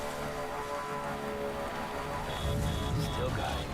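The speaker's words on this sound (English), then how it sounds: "Of course, there's fucking rain here." Steady rain falls in the video game Death Stranding as an even hiss of drops, with some low rumbling game sound swelling near the end.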